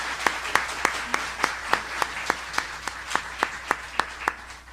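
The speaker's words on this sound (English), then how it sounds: "Please give a round of applause to Melissa de la Cruz." Audience applause at a book fair author event, a steady patter of many hands with regular sharper claps standing out, moderately loud and continuous with no talking.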